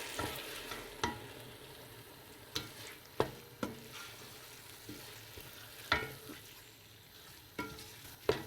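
Red lentils (masur dal) being stirred in a hot pan, with soft scraping and sharp spoon clicks against the pan at irregular intervals over a low frying sizzle, close and moderately quiet.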